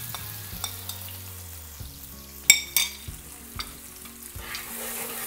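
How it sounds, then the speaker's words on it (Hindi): Spice masala and garlic fry over high heat in a pan, with a soft continuous sizzle broken by close scraping stirs and a few sharp clinks of the spoon against the metal. "इसको अच्छी तरह से इस वक्त हमने तेज़ आग पे भूनना है"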